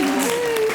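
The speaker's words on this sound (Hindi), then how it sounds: "जोरदार तालियां।" Brief burst of studio audience applause on a comedy television show, clapping under a voice that speaks over it.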